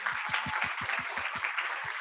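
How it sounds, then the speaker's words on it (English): A small audience claps after an opening talk at a show-and-tell event, a thin run of about a dozen distinct claps in a quick, even rhythm, fairly faint. "Please give her another huge round of applause"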